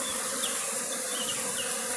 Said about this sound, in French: Est-ce que les abeilles reviennent sur le carton